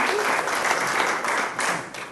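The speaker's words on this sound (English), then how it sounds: "So a round of applause for the team here." An audience at a corporate gathering for Desert Group applauds, a full, steady burst of clapping that dips slightly near the end.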